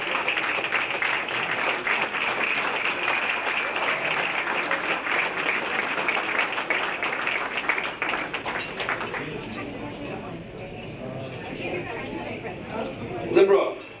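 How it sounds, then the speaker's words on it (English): Audience applause at a centennial dinner dance, a dense sustained clapping that holds steady for several seconds before thinning out, with some crowd murmur underneath and a brief louder burst near the end. "Round of applause, please."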